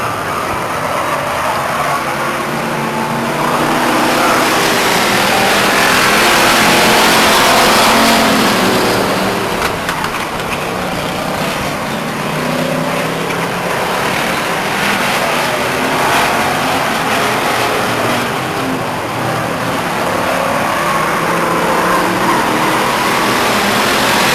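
Race cars lapping Stockton 99 Speedway, a loud continuous roar of engines that swells and fades as cars pass, with no talk over it.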